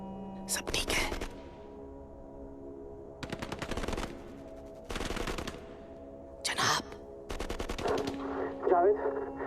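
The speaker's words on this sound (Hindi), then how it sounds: "फायरिंग वापस शुरू हो गई।" Machine gun fire comes in several separate bursts of rapid shots, each about a second long with quiet gaps between, close and loud, and voices speak in between.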